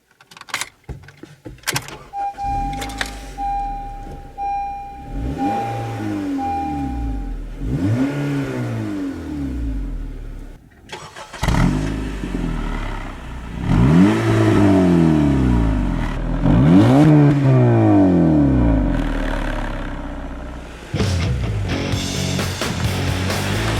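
A 2013 Honda Civic Si engine turns over and starts, then revs up several times in rising and falling sweeps, loud and close, with a brief whine and clunk between.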